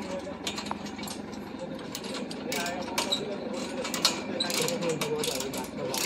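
Steel scaffolding couplers on a cantilever scaffold are tightened with a ratcheting tool, giving irregular metallic clicks and clanks over a steady site din, with people talking nearby.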